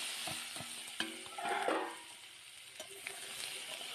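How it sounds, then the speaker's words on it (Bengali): Chopped vegetables are tossed into hot oil with bay leaf and panch phoron and stirred in a pan: soft scrapes and clicks, with a brief louder sizzle surge midway. "সবজিটা তুলে দিয়ে কিছুক্ষণ নেড়ে চেড়ে নেবো"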